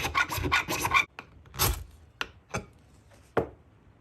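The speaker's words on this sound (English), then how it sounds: "to scrape off some shavings of this magnesium" Knife blade scraping shavings off a magnesium bar, a few rough rasping strokes, a quick run of scrapes followed by several separate short scratches, close but fairly quiet, no talking.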